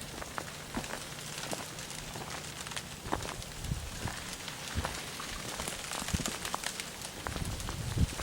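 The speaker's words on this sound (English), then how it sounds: "A little bit of a breeze has picked up and it sure makes a difference with the crackling." Dense, continuous crackling and ticking from ice-laden trees stirring in a breeze during an ice storm in New Brunswick, faint and steady with scattered sharper snaps.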